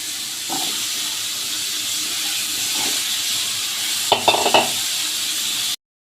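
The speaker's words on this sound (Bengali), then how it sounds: "আলুগুলো একটু ভাজা ভাজা হচ্ছে," Potatoes frying in oil in a wok, a steady loud hissing sizzle with brief stirring scrapes and knocks toward the end before it cuts to silence.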